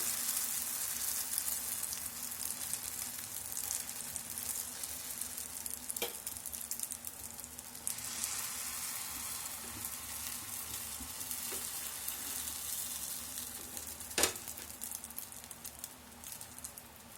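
Bread bun omelette mixture fries in oil in a pan, a steady, dense sizzle running throughout with a couple of brief sharp clicks from the pan or spatula.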